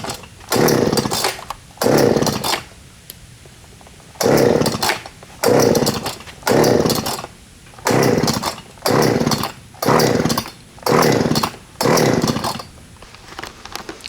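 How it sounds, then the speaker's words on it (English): A chainsaw being pulled and coaxed to start, with repeated loud bursts of engine sputter and revving separated by brief quiet gaps, close to the microphone and without any talking. "see if the chainsaw will start up"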